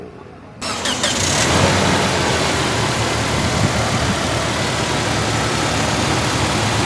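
A Toyota Fortuner engine, after a tensioner replacement, cranks and starts, then runs at a steady, loud idle close by, with no rattles standing out.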